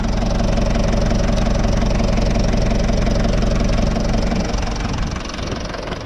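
A van engine running steadily after being started with a small jump tool, a loud continuous idle with low knocking rumble, close by, with no talk.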